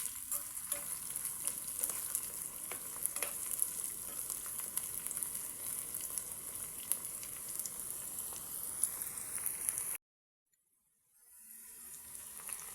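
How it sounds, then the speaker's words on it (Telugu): A brinjal and okra mixture sizzles steadily in a pan as it is stirred and fried until brown, a dense close crackle with faint scraping that runs for about ten seconds, stops abruptly, then returns faintly. "ఇప్పుడు దీన్నంతా మొత్తం బాగా కలబెట్టుకుంటూ బ్రౌన్ కలర్ వచ్చేంత వరకు బాగా ఫ్రై చేసుకోండి"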